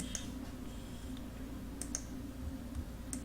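A computer mouse clicks a few times, sharp faint ticks spaced irregularly over a low steady room hum, close by with no speech.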